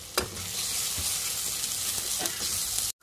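Ground chilli, turmeric, coriander and cumin powders frying in a pan for a fish-head moong dal, giving a continuous close sizzle with a few spoon scrapes as they are stirred, ending abruptly.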